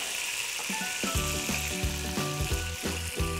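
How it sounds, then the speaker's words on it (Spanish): Mushrooms hit a hot pan beside browning free-range chicken pieces for a rice dish, producing a steady, close sizzle. Rhythmic tonal music plays along over the frying. "Ahora que está cogiendo un poco de color, vamos a echarle la seta ya"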